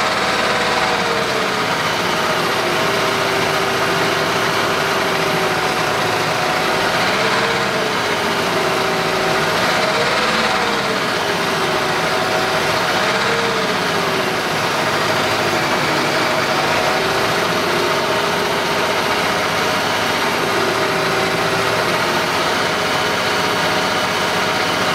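A Case tractor engine idles loudly and steadily nearby, a constant rumbling drone with slow wavering pitch, no voices.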